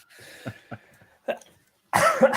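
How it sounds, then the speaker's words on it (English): A few short, close coughs and throat sounds, followed by a louder burst of coughing near the end. "Get my cough out of the way first."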